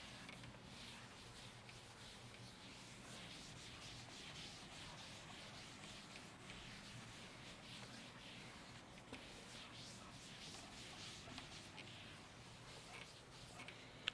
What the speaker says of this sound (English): I'm going to rub this part and we'll discuss the next one